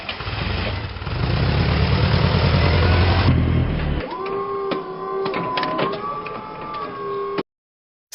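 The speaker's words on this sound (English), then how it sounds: "Mark, the professional instructor at Training, gets Scott to perform practical testing on the forklift" Forklift engine running loud and steady during a practical driving test, its low rumble dropping after about four seconds into a quieter idle with rising whine tones and clatter, then cutting off near the end.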